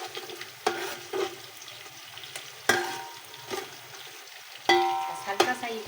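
White cumin seeds sizzle in hot oil with onions in a pan for a white pulao, a steady frying crackle with several sharper bursts as ingredients drop in, while someone talks over it.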